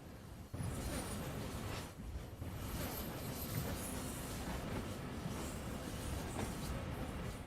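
A single cargo locomotive in Train Sim World, in an American West setting, slips its wheels while pulling away, producing a loud, steady, close rumble with grinding rail clatter throughout.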